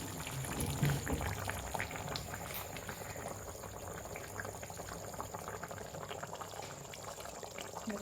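A stuffed capsicum curry simmers on a gas stove, making a faint, steady bubbling and gentle boiling with no talk over it.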